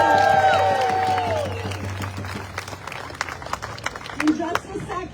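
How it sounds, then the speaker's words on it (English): A crowd at an outdoor No Kings protest applauds after a speaker's voice fades, the clapping continuing in a dense, moderately loud patter with scattered louder claps toward the end. "Let's give her another round of applause."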